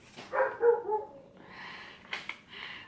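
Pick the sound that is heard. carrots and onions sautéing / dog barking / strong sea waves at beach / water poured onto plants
dog barking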